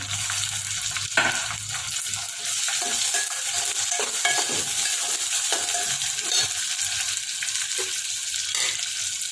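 Onion, curry leaves and tomato frying in a pan while being stirred, a steady sizzle broken by repeated close scrapes and metallic clinks of a spoon, no talking.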